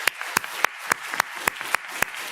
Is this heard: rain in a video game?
no